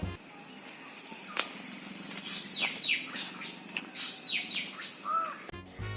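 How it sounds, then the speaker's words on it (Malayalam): Birds chirp and tweet repeatedly over a steady background hum, with quick descending calls clustering in the middle, fairly close and clear. "ഇനി കുറച്ച് കിളികളെ സൗണ്ട് കേട്ടാലോ."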